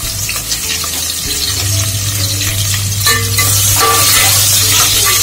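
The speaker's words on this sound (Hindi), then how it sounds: "प्याज को अच्छे से फ्राई करेंगे, लाल जब तक लाल नहीं होगा तब तक फ्राई करना है इसको" Onions fry in hot oil with whole garam masala spices, a loud close sizzle with stirring and occasional utensil clinks throughout, no voices.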